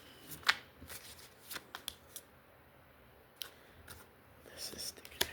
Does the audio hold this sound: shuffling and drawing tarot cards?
yes